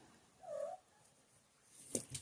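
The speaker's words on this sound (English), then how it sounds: "That noise, of course, is the cat." A cat makes a short agitated vocal sound, a single faint tonal cry, followed by a couple of quieter clicks or rustles, with no talking.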